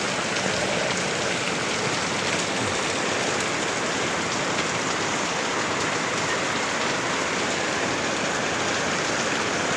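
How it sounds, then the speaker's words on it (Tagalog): Heavy rain pours steadily onto a vegetable garden during a strong downpour with wind, a dense continuous hiss close by and loud throughout, with no voices. "Nabasa na yung mga gulay ko sa sobrang lakas ng ulan."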